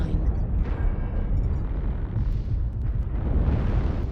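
Airstrike explosions in the mech combat game MechWarrior Online, a dense, continuous low rumbling roar of blasts and heavy booms rolling on without pause, loud and close, with no talking.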